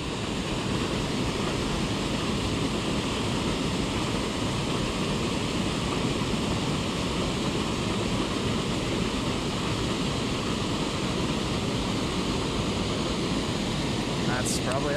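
Water pours over a small spillway in a steady, loud, unbroken rush of white noise, heard close by with no other sounds on top.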